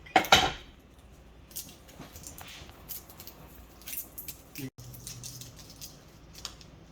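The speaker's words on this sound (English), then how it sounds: "we're going to start off by dicing the garlic, not into little tiny pieces, but just slices like this" Knife slices garlic cloves on a board into thin pieces, a loud initial crunching cut followed by soft, scattered taps and light scrapes, close up with no speech.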